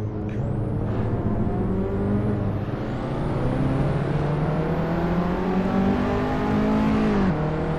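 Race car engine in the Assetto Corsa driving game, loud and continuous, revving with pitch sweeps as it downshifts and climbs through gears, a steady drone with no talk over it.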